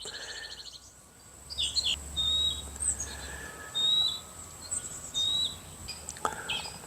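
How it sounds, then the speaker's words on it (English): Several birds chirp and whistle outdoors in short, repeated calls, fairly close, with quiet ambient noise between them. "A lot of chirping going on today."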